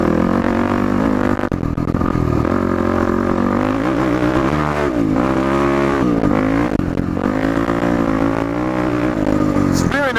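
Yamaha WR450F dirt bike with modifications and new jetting, ridden hard: a loud, close engine revs and surges repeatedly through throttle changes, with a rider's voice over the noise.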